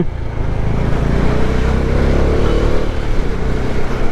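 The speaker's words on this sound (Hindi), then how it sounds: "डोमिनार की आवाज़ कितनी है भाई" Bajaj Dominar 400 motorcycle engine droning steadily and loudly while riding through traffic near a small tunnel, a continuous close low rumble without any talk.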